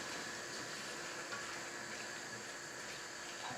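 Chilli sizzles and fries in a hot pan as it is stirred around, a continuous crackling hiss with faint scraping textures throughout, close up and with no one speaking.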